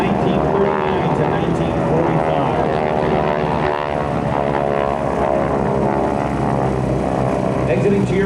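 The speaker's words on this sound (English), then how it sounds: "These airplanes powered by a mere 600 horsepower Pratt & Whitney radial engine" Vintage propeller airplanes with 600-horsepower Pratt & Whitney radial engines flying at a military open house airshow, a steady loud droning roar throughout with a commentator talking over it.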